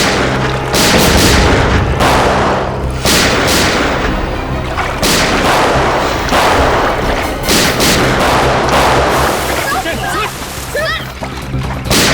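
Gunfire in a village shootout, with repeated loud bursts and booms dense across the whole stretch, mixed with a busy dramatic soundtrack and scattered voices.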